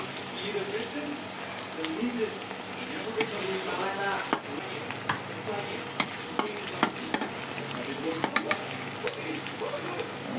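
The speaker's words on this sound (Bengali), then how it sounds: "পরিমাণ মতো তেল দিয়ে পেঁয়াজগুলোকে হালকা ভেজে নিতেছি।" Onions fry lightly in oil in a pan on a stove, a busy close sizzle broken by sharp scrapes and clacks of stirring, with faint voices in the background at times.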